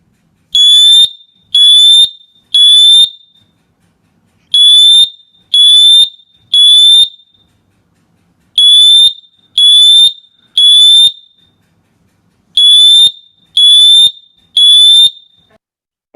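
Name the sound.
smoke alarm sounding temporal three-pulse pattern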